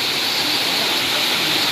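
Forest waterfalls on the Khandas to Bhimashankar trek, a loud, dense, continuous roar of rushing water that fills the whole short stretch without pause.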